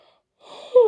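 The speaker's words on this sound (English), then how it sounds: "yawn." A single breathy yawn, quiet at first, then swelling into a louder wheezing, voiced stretch near the end, close up and with nothing else around it.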